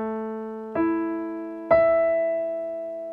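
Piano playing single notes, A then E, with sustained tones, each new note struck cleanly and left ringing, close and solo.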